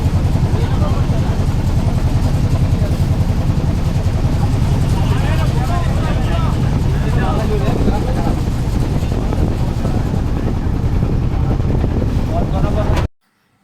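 A trawler's engine thrums loudly and steadily while cruising Tanguar Haor wetland, a constant close rumbling drone with a voice speaking over it, ending abruptly.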